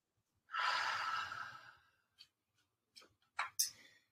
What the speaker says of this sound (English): big giant belly breaths.